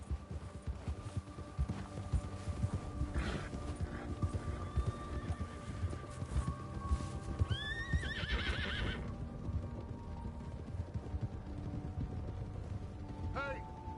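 Horses ridden in Red Dead Redemption 2 near Blackwater give steady clip-clop hoofbeats, with snorts and a whinny partway through, under a low hum and faint game ambience.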